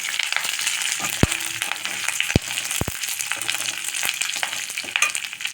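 Curry leaves crackle and sizzle steadily in hot oil for a chutney, a loud, close frying hiss with a few sharp pops and faint stirring, and no talking.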